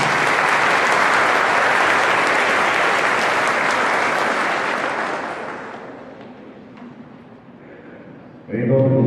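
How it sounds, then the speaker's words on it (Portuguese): A church congregation gives loud, sustained applause welcoming the priest at an evening Mass during a triduum for the parish's 160th anniversary; the clapping fades out and a voice begins speaking at the end. "Vamos acolher com a salva de palmas."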